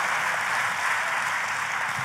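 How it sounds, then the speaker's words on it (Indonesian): Church congregation clapping together, a steady, dense wash of applause filling the sanctuary at a fairly loud level with no voices over it. "Kalau mau tepuk tangan, boleh tepuk tangannya yang lebih dahsyat."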